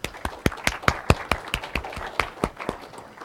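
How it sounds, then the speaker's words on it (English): A lecture audience claps in a sparse, irregular run of distinct sharp claps, moderately loud and close, with no talking over them. "Let's give them a round of applause."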